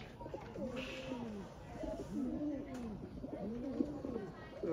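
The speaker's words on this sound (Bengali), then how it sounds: "এই হচ্ছে আমাদের দেশি কবুতর" Local Bangladeshi pigeons, kept as racing birds, coo in repeated rolling phrases close by, one call after another at an even pace over a faint outdoor background.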